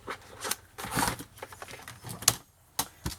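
Scissors cut paper for scrapbooking, a page backing being trimmed along a line in a handful of short, crisp snips and rustles.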